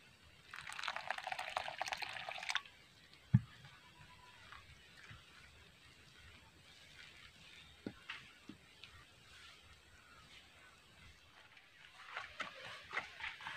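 Water pours into flour being mixed for dough, a brief splashing rush at the start, then soft scattered knocks and squelches of hand mixing, faint and close.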